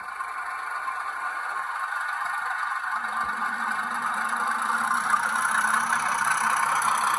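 A Heljan Class 33 model locomotive plays its DCC sound, a continuous diesel engine drone that revs up and gets louder and deeper midway through, then holds at the higher revs.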